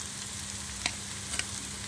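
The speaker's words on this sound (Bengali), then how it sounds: "এখানে আমি কড়াইতে তেল দিয়ে পেঁয়াজটাকে লাল করে নিয়েছি।" Onions sizzle steadily in hot oil in a wok, a soft continuous frying hiss with a couple of brief clinks from stirring, close and on their own.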